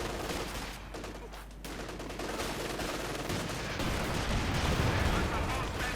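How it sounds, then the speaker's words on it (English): Bazookas fire repeatedly at a Panzer IV in a Company of Heroes 2 match, dense overlapping battle blasts and gunfire rolling continuously, with a commentator talking over the din. "taking a lot of damage from all those bazookas, just constantly firing away"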